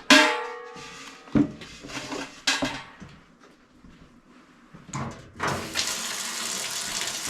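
A bucket being filled with hot soapy water from a tap for washing a milk cow's udder, water rushing and splashing in loud bursts, then a sustained gushing flow near the end; no talk.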